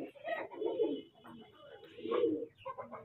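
An Aseel fighter pigeon coos in low, throaty rolling phrases, two main swells about a second apart with softer murmurs between, close and clear.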